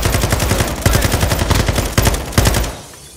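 Rapid automatic gunfire in Call of Duty: Warzone 2.0, loud and close, fired as a quick run of sharp shots with a few heavier bursts before it cuts off into quiet.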